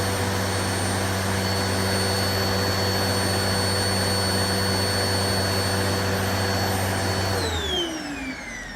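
A Hoover Pet Max bagless upright vacuum cleaner runs on low with a loud, steady motor roar and piercing high-pitched whine tones, then winds down as it switches off near the end.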